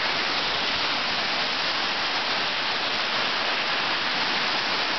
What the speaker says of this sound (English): Ah, the beautiful waterfall.